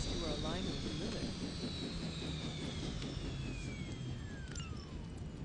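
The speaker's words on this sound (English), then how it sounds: "You've grounded the helicopter." A helicopter is shot down and grounded in a superhero action video game, with a loud, continuous roar of aircraft engine and descending whine sweeping through the whole stretch, dense and near.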